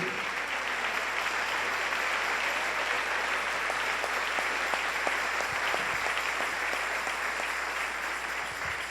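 A church congregation applauds at length, a continuous broad roar of many people clapping that holds steady throughout, heard from within the room with faint background murmur.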